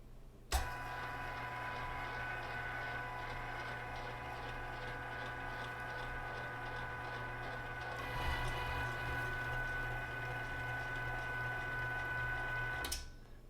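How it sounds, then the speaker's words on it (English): A LEM cutlet maker running as chicken cutlets are fed through to be tenderized, giving a steady mechanical whir and hum with a rhythmic ticking, starting with a clunk, getting a little louder partway, and stopping with a sharp click. "I'm going to take these and see if we can get them through this cutlet maker and see what comes out the other side"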